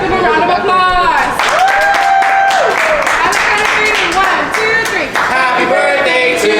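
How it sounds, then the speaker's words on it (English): Diners at a Benihana restaurant clap and cheer for birthdays, busy applause mixed with loud voices and chatter, with a sustained sung or called tone rising over the crowd. "Let's give them a round of applause"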